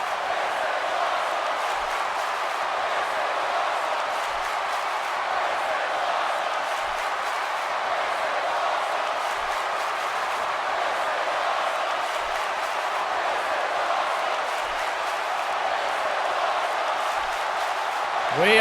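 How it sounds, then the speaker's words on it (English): Steady crowd roar from the wrestling video game WWE 2K19 fills the whole stretch, a dense arena-style din that stays loud and constant throughout. "Listen to the crowd."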